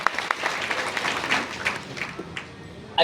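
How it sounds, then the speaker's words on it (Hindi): Dense, steady applause from an audience honoring company achievers at an Aastha Pariwar network-marketing gathering, sustained for about three seconds with a sharp burst at the end. "इन दोनों लोगों के लिए भी तहे दिल से जोरदार तालियां।"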